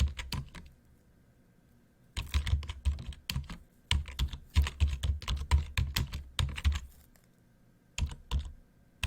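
Close, rapid clacking of keys on a computer keyboard comes in bursts, with short pauses between runs of typing.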